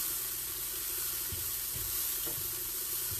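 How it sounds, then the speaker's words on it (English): Onions caramelizing in a pan, a steady broadband sizzle that continues throughout, with a few soft stirring knocks and no talking. "So we're just getting those onions nice and caramelized."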